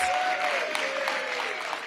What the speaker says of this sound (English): Ladies and gentlemen, let's give Frank Smith a big round of applause